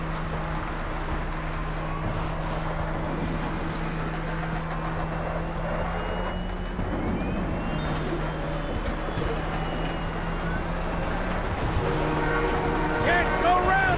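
A train rumbles past in the GTA 5 video game, a steady low engine drone with a horn-like tone holding through the scene and light game noise around it.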